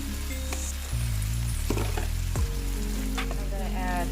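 Tempeh frying in a wok for an Indonesian woku dish, a steady loud sizzle with brief clatters of stirring, continuous throughout.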